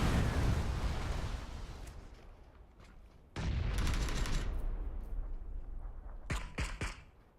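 Gunfire and explosions in a battle royale video game match, dense rumbling bursts with a sudden loud burst partway through and a few sharp shots near the end.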